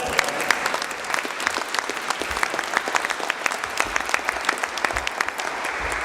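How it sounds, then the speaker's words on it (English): Crowd applause at a talk, a sustained, lively clapping from many people with scattered sharper claps standing out, filling the room evenly throughout. "Let's clap it up for that one."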